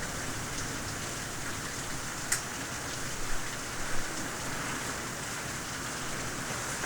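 Steady heavy rain hisses outdoors, a dense continuous wash of noise with a few brief louder spatters.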